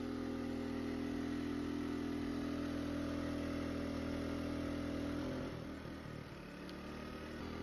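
A portable inverter generator runs steadily at 90% load with a continuous, even mechanical drone whose tone shifts and eases slightly near the end.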